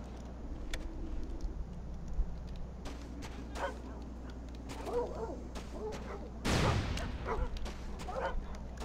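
Dogs bark in the trench-warfare video game Iron Storm, several yips and barks scattered over a low rumbling background, fairly faint, then a louder blast near the end.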